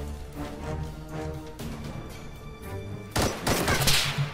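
Gunfire in the DayZ Overpoch video game, a few scattered shots at mid distance, then a louder sharper burst of shots near the end.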